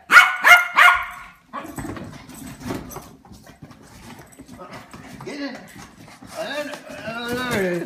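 A Yorkie barks in a quick run of sharp, close yaps at the start, followed by softer whimpers and a person talking.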